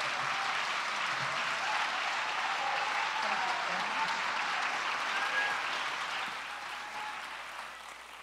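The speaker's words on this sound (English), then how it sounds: "I'll just bask in the applause for a while." An audience applauds a lecture speaker at an evening talk, a dense steady wash of clapping that fills the room for several seconds and tapers slightly toward the end.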